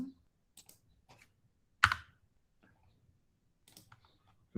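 A few scattered computer keyboard key clicks, quiet and close, with one louder sharper tap in the middle and long silent gaps between presses while a typo is corrected.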